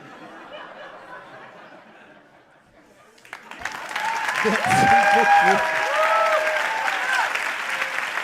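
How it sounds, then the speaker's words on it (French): Quiet murmuring gives way to a loud burst of comedy-show audience applause that swells and holds, mixed with some laughter. "Un tonnerre d'applaudissements pour Audrey Vernon, s'il vous plaît."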